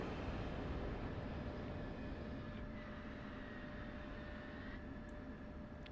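A steady, even whine and rumble from an F-16 Viper jet running after a cold-start sequence in the DCS flight simulator, a constant engine drone with no talk over it.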